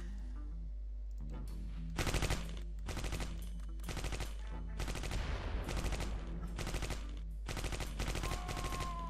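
MP40 submachine gun fire in the wartime strategy game Close Combat Cross of Iron comes in several sharp rapid bursts separated by short pauses, loud and close. No one talks over the shots.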